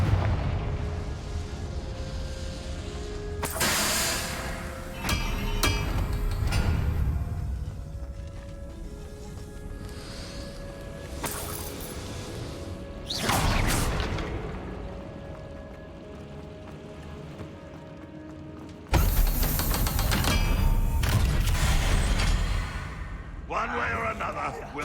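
Confringo fire spell blasts in the video game Hogwarts Legacy, several loud booming explosions spaced apart over game music and character dialogue.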